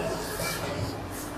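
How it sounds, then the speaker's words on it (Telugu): Faint rumble of a train crossing a railway bridge above an underpass under construction, a low steady drone at a distance with no clear wheel rhythm. "ఇప్పుడు దీనిపైన ట్రైన్ అయితే పోతా ఉంది."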